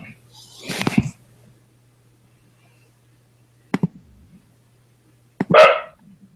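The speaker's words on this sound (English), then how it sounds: "Is that dog at your place, Nathan?" A dog barks nearby in a home setting during a family meeting, with three separate bursts of barking: one short run at the start, a sharp yelp a few seconds later and a final bark.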